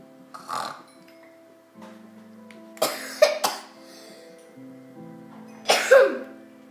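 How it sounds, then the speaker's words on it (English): A person coughs in several harsh, separate bursts, with quiet pauses between them over a faint, steady tonal hum. "because I did cough."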